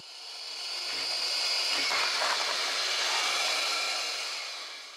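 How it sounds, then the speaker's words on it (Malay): A Philips SpeedPro Max Aqua cordless vacuum cleaner (FC6901) runs with a steady airy hiss and whine while lifting a balloon filled with water, holding one smooth tone throughout with a few faint low thumps. "Memang vacuum ni boleh mengangkat sehingga 3 kilo air."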